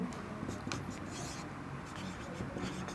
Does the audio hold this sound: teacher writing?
yes